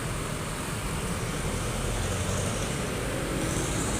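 Steady, dense road traffic on the way to Dasma, a continuous broadband roar of passing vehicles without any speech.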